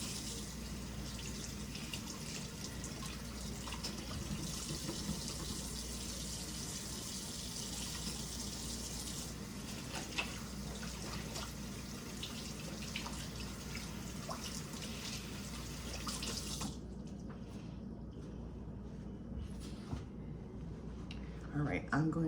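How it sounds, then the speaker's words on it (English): Tap water runs steadily into a kitchen sink during hand washing, a continuous gushing hiss that cuts off near the end, followed by faint drips and a few light clatters. "Let me wash my hands."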